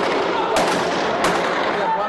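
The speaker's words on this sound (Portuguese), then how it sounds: "O som é de disparos de munição antimotim" Two sharp, loud riot-control ammunition shots ring out inside a prison, spaced about a second apart, each followed by echoing reverberation over a constant roar of shouting and crowd noise.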